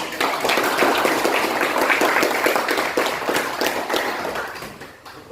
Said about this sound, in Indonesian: Kasih tepuk tangan dulu buat.